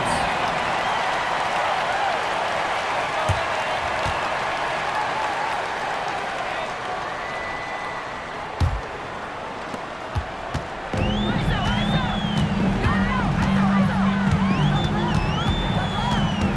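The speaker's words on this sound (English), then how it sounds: "it sounds like the crowd believes it" A crowd cheers and roars in a video game WNBA basketball game, with commentary talk over it; whistle-like tones and louder cheering swell near the end.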